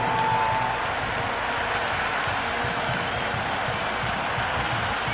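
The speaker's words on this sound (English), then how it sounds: "the crowd have joined the party. It's pretty noisy in the ground" A cricket crowd at a Women's Premier League match between UP Warriors and Gujarat Giants cheers and applauds, a dense, steady roar of clapping and voices filling the ground without letup.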